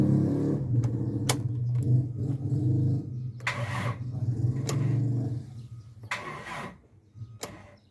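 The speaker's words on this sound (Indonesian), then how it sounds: "kalau aki itu sudah soak dan rusak, itu ketika di starter maka bunyinya akan seperti ini" A car engine with a weak, failing battery cranks over and over in a sluggish, labored rhythm for several seconds, with short clicking pauses between attempts, never catching.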